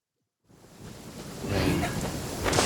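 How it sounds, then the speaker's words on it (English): Rain and thunder in the video game Genshin Impact roll in after a brief silence as a dense, steady wash of noise that swells louder toward the end, with a deep rumble underneath and no voices. "Rain."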